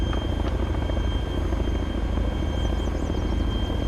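A Chinook-style tandem-rotor helicopter in the game ArmA 3 flies with a loud, steady rapid rotor thump and turbine whine running throughout, close and constant, with no voices.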